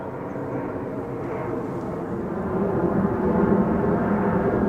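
A steady jet engine roar rises slowly in loudness as a Jet2 Boeing 737 passes overhead, broad and rumbling, with no talking.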